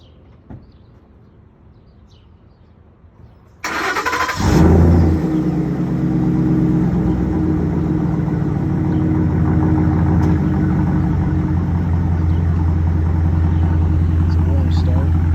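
A 2011 Ford F-150 5.0L V8 with a Borla ATAK exhaust and Roush cold air intake cranks to life after a quiet moment, flares briefly, then settles into a loud, steady, deep idle rumble nearby.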